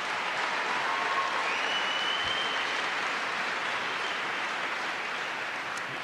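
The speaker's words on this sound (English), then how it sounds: "Please give him a big round of applause." A large audience applauds at a political speech in Albany, New York, with dense, steady clapping that stays even and sustained throughout, heard from within the hall.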